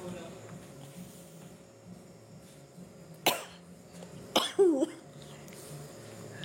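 Two or three short, sharp coughs from a person at home, separated by brief pauses, standing out over a quiet room with faint background murmur.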